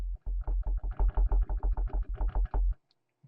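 A deep synthesized sine-wave kick drum tuned to F pulses in a fast, steady sequence of about a dozen heavy thumps, then stops, leaving brief silence.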